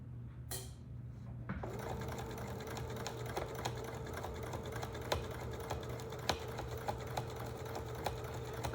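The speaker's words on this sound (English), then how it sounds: "I'm going to finish sewing this around" A sewing machine stitches around the edge of a bandana bag, a steady close mechanical whir with rapid needle ticking running continuously, with a few sharper clicks along the way.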